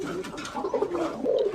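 Colouring pigeons on a pigeon farm coo nearby in a continuous, overlapping run of low throaty calls.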